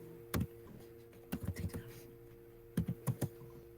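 Several short bursts of typing on a computer keyboard, clustered keystrokes in a few quick groups separated by pauses, close and fairly quiet against a steady background hum.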